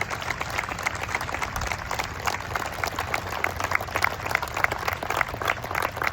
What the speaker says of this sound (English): if we can all give them a round of applause